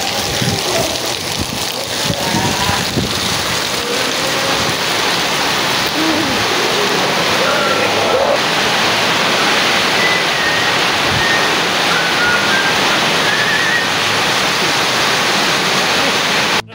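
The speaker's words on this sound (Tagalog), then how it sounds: "Oo, lakas na ulan no." Heavy rain roars steadily and loudly throughout, a dense unbroken wash of noise with faint voices and occasional clatter beneath.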